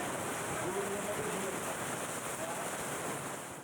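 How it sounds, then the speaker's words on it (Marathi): Heavy rain pours down on the streets of Hingoli city in Maharashtra, a steady, dense hiss that fills the scene from start to finish at an even level with no other clear sound. "शहरामध्ये सध्या जोरदार पावसाने हजेरी लावली आहे।"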